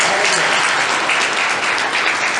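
A crowd at a Yoga Day celebration applauds: dense, loud, sustained clapping that fills the whole stretch evenly, with no break.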